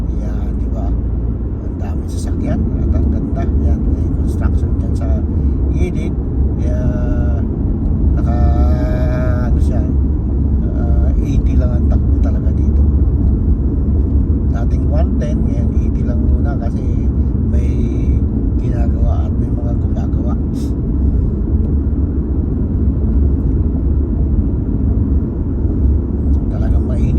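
Road traffic with many vehicles rumbles past in a constant, heavy low roar, and voices can be heard over it throughout.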